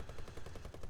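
Rapid burst of light machine gun fire from a P-40C Warhawk fighter in War Thunder, a steady rattling stream of closely spaced shots at moderate volume, heard alone.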